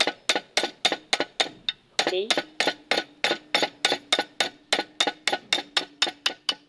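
A hammer strikes a screwdriver set in a stuck Phillips screw, about twenty-five sharp metallic taps in a steady fast rhythm, close and loud, with a brief word spoken partway through.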